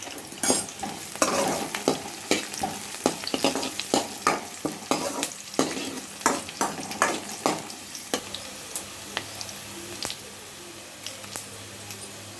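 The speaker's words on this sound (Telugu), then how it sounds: "ఓకే అక్కడ జీలకర్ర అది పెట్టారు" Cumin seeds fry with onions in a pan for an Indian amaranth-leaf curry, a soft sizzle under repeated rhythmic scraping and stirring strokes from a spoon, close by, with the stirring easing toward the end.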